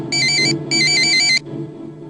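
A telephone rings in a Hindi TV drama scene with two loud, clear electronic ringtone bursts, the second longer, before cutting off into quiet room tone.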